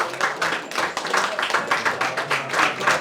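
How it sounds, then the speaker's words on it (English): An audience at a launch screening applauds the cast, a continuous patter of hands in pulsing waves that stays lively and fairly close for the whole stretch. "Round of applause for the cast."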